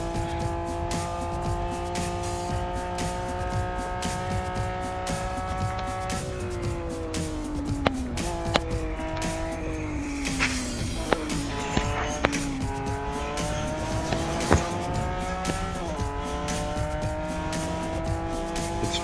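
In the Retro Rivals racing game, a car engine drones steadily and its pitch drops and climbs again through the corners, while tires squeal repeatedly and a few sharp clicks cut through.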